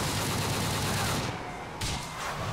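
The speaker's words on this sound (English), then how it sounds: "Oh, he's shooting through walls." Gunfire in the GTA video game with an Iron Man mod, a dense continuous fusillade of shots that stays loud throughout, briefly dipping then resuming near the end.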